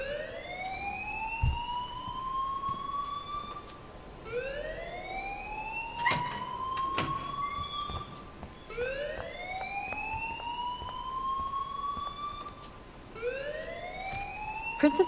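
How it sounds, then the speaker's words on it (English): A wailing alarm in the game Life Is Strange sounds loud and alone, each rising sweep repeating about every three seconds, with sharp clicks scattered between. "please turn off that alarm since that's your job"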